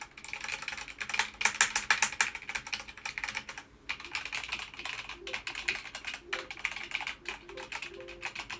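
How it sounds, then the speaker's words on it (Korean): Rapid clicking keystrokes on a computer keyboard, close and crisp, coming in uneven bursts with a short pause midway. "키보드 앞에 두고 키보드의 타건음도 함께 들려드려 보겠습니다"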